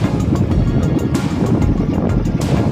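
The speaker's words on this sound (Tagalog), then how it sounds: "lalaki ng alon ah." Big sea waves wash and slosh around a moving boat, loud and close, under heavy wind buffeting on the microphone, continuous with no voices.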